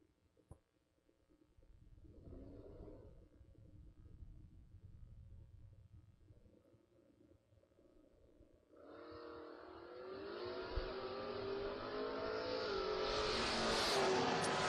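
Drag racing at a creek-side strip, a 1970 Buick Skylark and a first-generation Camaro launching; engine rumble builds to a loud, rising roar of acceleration with no talk.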